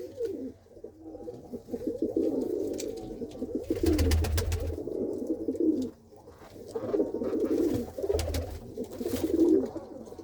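Pigeons coo in repeated bursts, several birds calling close by with soft throaty rolling notes and brief pauses between phrases.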